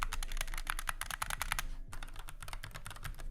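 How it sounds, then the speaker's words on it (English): SteelSeries Apex 9 TKL keyboard with clicky switches being typed on, rapid close-up clacking keystrokes in a fast dense stream with a momentary pause partway through. "I think it sounds exactly the same way as the Apex Pro Mini. Well, it's a little bit more clicky."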